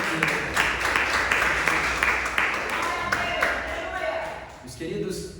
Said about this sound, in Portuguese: Quem pode aplaudir ao nome do Senhor nessa noite?